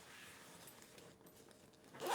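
After a quiet stretch, a bag zipper is pulled in one short, close rasp at the very end.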